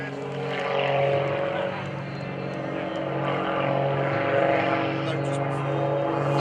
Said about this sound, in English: Skip's aircraft is named Prometheus, which means forethought